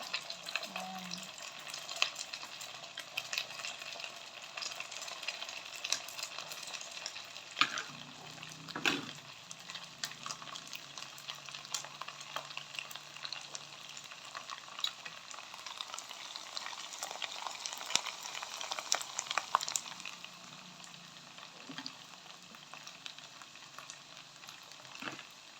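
Banana fries sizzle in a pan, a quiet, steady crackle of frying oil with occasional stirring clatter and a couple of brief clinks.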